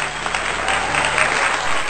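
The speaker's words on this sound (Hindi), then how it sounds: "जोरदार तालियां रामेंद्र मोहन त्रिपाठी जी।" An audience at a Hindi poetry event breaks into loud, sustained applause, dense clapping from a large crowd heard close and continuous throughout.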